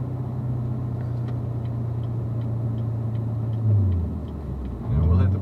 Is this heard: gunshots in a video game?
no